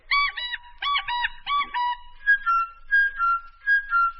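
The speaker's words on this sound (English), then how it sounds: "when you hear the sound of the cuckoo bird" A cuckoo call used as a radio-play cue, played as a whistled, warbling series of about a dozen short notes in pairs and triplets, clear and close against a quiet background.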